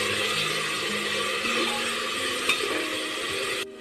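Masala and tomatoes fry and are stirred in a pan, giving a steady close sizzle with soft scraping strokes and a faint whirring tone, ending with a slight drop in level.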